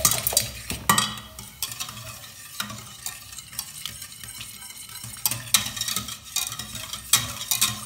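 Milk for a béchamel sauce being whisked in a pan: rapid scraping and clinking strokes of the whisk against metal in uneven bursts, close and clear, without speech.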